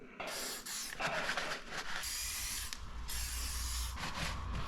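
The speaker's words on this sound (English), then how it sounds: "this is the part where I lubricate my brake discs again" Spray lubricant is squirted onto the rear brake disc of a Yamaha Tenere 700 motorcycle in several short and long hissing bursts, close up and crisp, with small mechanical clicks between sprays.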